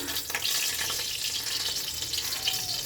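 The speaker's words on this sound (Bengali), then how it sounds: "কড়াইয়ের মধ্যে আমি সরিষার তেল দিয়ে দেবো।" Mustard oil hits a hot kadai with a continuous bright hiss and crackle that holds steady and close for a few seconds, with no talk.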